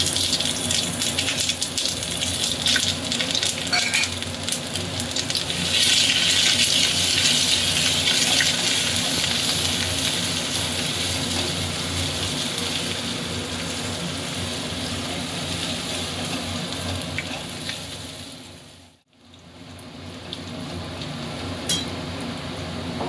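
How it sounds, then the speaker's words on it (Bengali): Chopped ginger sizzles in hot oil for a fried mustard-greens dish, a steady, loud, hissing crackle that runs continuously and briefly cuts out just before the end. "আদা কুচিটা তেলের পর দিয়ে দিচ্ছি"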